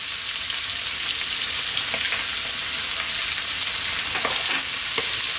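Onion, garlic and ginger fry in plenty of hot oil over fairly high heat for vegan broccoli fried rice, a steady dense hiss with occasional scraping stirs, close and even throughout, no voices.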